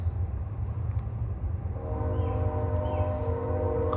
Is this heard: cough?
no